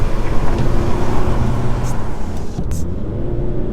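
An Audi A3 2.0 TDI diesel car pulls hard on country lanes, giving a steady, loud engine and road drone heard from inside the cabin, with a brief voice over it.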